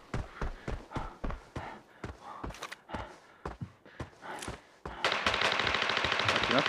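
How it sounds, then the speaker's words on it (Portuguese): Rapid bursts of suppressed gunfire in the video game Arena Breakout crack out in uneven clusters, then give way to a louder, dense sustained stretch of shooting near the end. "Vi uns tiros silenciados pra cá, ó."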